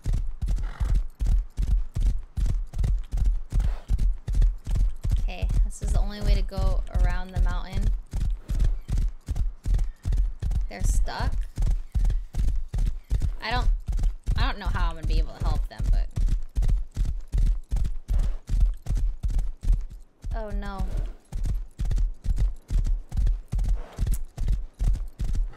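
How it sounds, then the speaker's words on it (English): Rapid, steady hoofbeats clop along in an even galloping rhythm throughout, from a horse in the video game Rust, with occasional synthetic-sounding whinnies and game effects layered over them. "It kinda sounds like this horse has gloves on."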